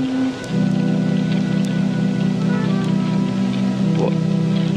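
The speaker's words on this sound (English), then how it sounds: "It's still raining. Why is it still raining?" Steady rain falling outdoors, a dense continuous hiss with scattered drips, close and fairly loud, with no talking.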